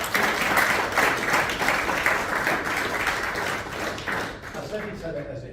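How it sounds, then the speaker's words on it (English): Audience applause at a business conference talk, a dense burst of clapping from a room of people that fades out near the end as a voice starts speaking. "can we first of all applaud Paul?"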